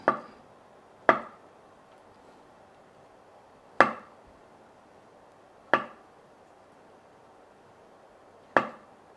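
A knife cuts food on a cutting board in five separate, sharp chops spaced a couple of seconds apart, each a crisp near tap against a quiet background.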